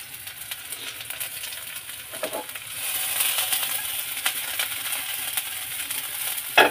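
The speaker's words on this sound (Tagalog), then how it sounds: "Ito, luto po ng corn beef." Corned beef sizzles while frying in a pan, a close, steady hiss with light scraping as a spoon stirs it, getting louder partway through and ending in a sharp clink.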